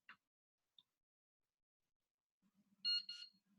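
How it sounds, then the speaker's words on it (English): A countdown timer gives two short, faint single beeps spaced apart, then a louder, sharp double beep at the end of the count, alone with a low hum underneath. "there'll be a double beep"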